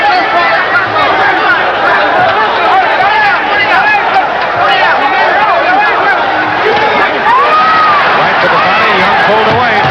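Boxing crowd at the Jimmy Young vs Ossie Ocasio fight, a loud, steady roar of cheering and excited chatter lasting throughout, with a commentator talking over it.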